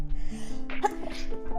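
A single sharp human sneeze bursts out close and loud in the middle, with faint voiced sounds around it.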